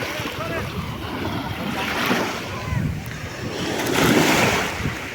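Waves wash and surge against a shore. The roar swells twice, with wind buffeting the microphone, while faint voices talk underneath.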